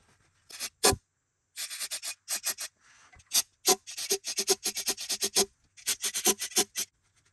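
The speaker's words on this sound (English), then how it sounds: "Here's a demonstration of how I removed the corrosion so the O-ring would slide in" Corrosion is scraped off a metal turbo fitting on a BMW N54 build: close, dry, rasping strokes come in quick repeated bursts separated by brief pauses.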